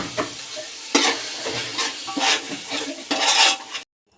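Onion and tomato paste fry in a pan while a utensil stirs it, making close bursts of sizzling and scraping in an uneven rhythm that stop abruptly into silence at the end.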